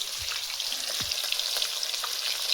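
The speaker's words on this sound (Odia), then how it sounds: "ପିଓରି ସୋରିଷ ତେଲରେ ଭଜା ଚାଲିଛି ମାଛ।" Fish sizzling in mustard oil in a village kitchen, a steady bright crackling fry with a couple of soft low knocks, close and continuous with no talking.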